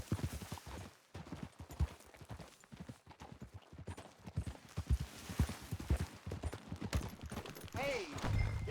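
Horse hooves clip-clop at a steady trotting rhythm on the ground in Red Dead Redemption 2, close and continuous, with a brief tonal call near the end.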